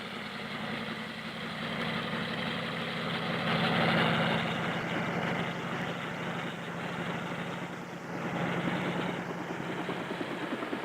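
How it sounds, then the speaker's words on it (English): A US Navy helicopter scouting through Antarctic ice gives a steady rotor and engine drone that holds at a constant level throughout, swelling slightly at times, with no voices. "the helicopter serves as the eyes of the fleet to scout out a way through the ice."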